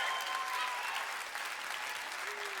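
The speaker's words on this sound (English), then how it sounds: "Clap it up for the poetry." An audience claps for poetry at a live spoken word event in Canada, steady applause across the whole moment, fairly faint and distant with a few voices mixed in.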